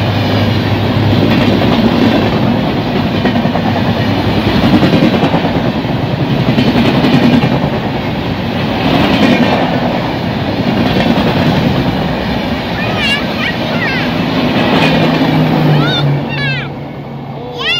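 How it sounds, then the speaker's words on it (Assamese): A train rushes past a level crossing with red signal lights, its loud continuous rumble and clickety-clack rolling on close by for the whole stretch while people talk over it and a horn-like tone rises near the end. "এইফালৰ পৰা ট্ৰেইন আহিব এতিয়া"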